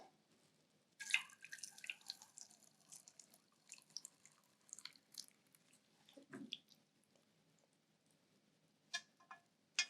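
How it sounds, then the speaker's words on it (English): Hot lemon lavender panna cotta mixture with dissolved gelatin strained into a copper mold, quiet close dripping, trickling and small wet squishes with scattered clinks, faint and intermittent. "So the gelatin has been dissolved, and we're going to strain it into this mold."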